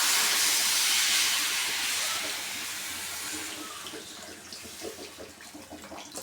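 Water poured into a pot of chicken and garlic sambar, a loud close hissing splash that gradually eases and fades as the pour goes on.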